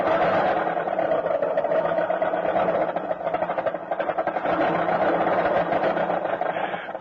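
On a cold winter morning a car engine bucks and sputters as it tries to start, making a loud, continuous, rough chugging churn with irregular pulses, like an old radio sound effect, and no one talks over it.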